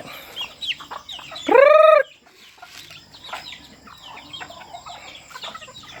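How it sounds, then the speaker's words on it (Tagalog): On a farm, a rooster crows once loudly and close, a short rising call, amid scattered clucking and soft chirps from other chickens around it. "yung mga manok."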